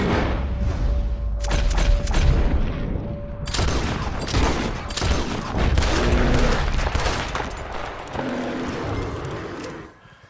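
Rapid bursts of gunfire in the video game Red Dead Redemption 2 crackle and boom almost continuously, loud and dense, with volleys overlapping throughout.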